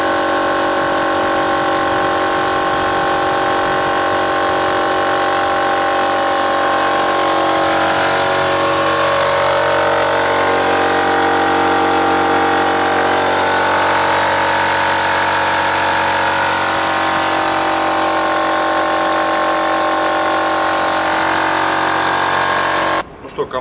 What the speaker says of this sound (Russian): сейчас попробуем накачать 9-литровый баллон, начиная со 100 атмосфер, и посмотрим, сколько времени на это потребуется у компрессора.